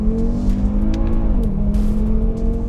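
Audi RS3 with a 2.5-litre five-cylinder turbo engine making 400 horsepower accelerates hard, its loud, steady engine note rising and shifting through a gear, close and continuous with no talk.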